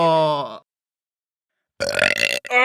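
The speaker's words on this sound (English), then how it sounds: "control your burps!" A loud, drawn-out human burp sounds up close, followed after a pause by another rough burp with throaty vocal noise.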